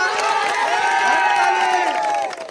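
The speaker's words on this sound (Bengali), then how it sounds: "চাচার জন্য যে একটা হাততালি হয় না?" A crowd watching an apple-eating contest claps and cheers for the uncle, with loud excited shouting voices and scattered clapping close by that fade out at the end.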